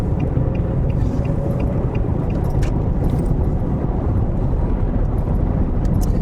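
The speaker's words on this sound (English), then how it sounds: "Let's see if I can get this traffic here." Road traffic passing near a roadside boondocking spot, heard as a steady, loud low rumble of car engines and tyres running throughout with no clear gaps between vehicles.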